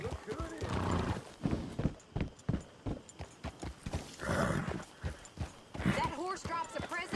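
Horse in the Red Dead Redemption 2 video game, rhythmic clip-clop of hooves with whinnying, neighing calls rising over the steps, while people talk throughout.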